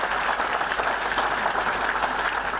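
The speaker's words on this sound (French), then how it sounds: "Acclame Jésus en ce matin." A church congregation at a Sunday worship service applauds in a steady, dense burst of clapping that fills the room, with no voices standing out above it.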